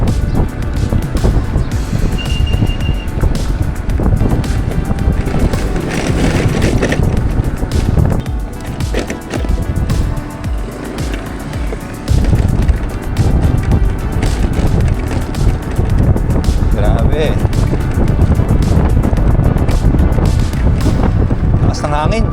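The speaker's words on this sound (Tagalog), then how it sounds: "Lakas ng hangin." Strong wind roars and buffets the microphone in heavy gusts, mixed with a low engine rumble as if riding outdoors at speed on an e-bike along a beach in Boracay.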